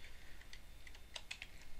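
A computer keyboard being typed on to enter a terminal install command on Ubuntu: a short run of soft, irregular key taps, close but quiet, with no talking.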